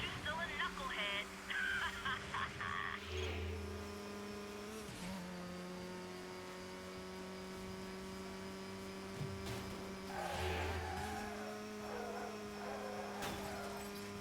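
Engine of a Mazda RX-series car in the racing video game Midnight Club: Los Angeles, a steady droning hum with swells of revving, heard under ongoing talk.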